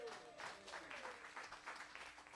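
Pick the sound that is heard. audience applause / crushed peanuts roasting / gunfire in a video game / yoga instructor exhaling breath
audience applause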